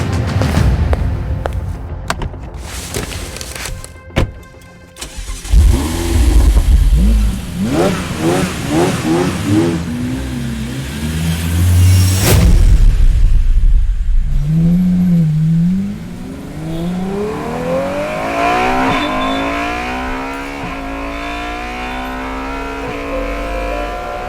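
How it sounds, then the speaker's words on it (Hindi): A Ferrari revs hard in bursts, then accelerates and pulls away, engine pitch climbing through gear changes and fading into the distance, loud and close with no talk. "एक साथ फरारी में बैठकर वहां से निकल गए"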